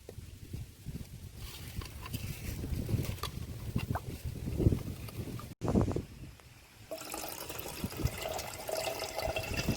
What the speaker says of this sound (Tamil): அவல் வெல்லம் போட போட கொஞ்சம் கொஞ்சமாக தேங்காய் தண்ணி சேர்த்துக்கிட்டே வாங்க